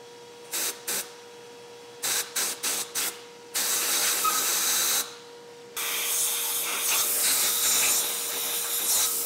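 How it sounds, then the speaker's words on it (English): Air gun blowing dust out of drilled holes in a workshop: several short sharp hissing bursts, then two long sustained blasts of compressed air, loud and close with no talk. "I'm gonna use a combination of a vacuum and an air gun"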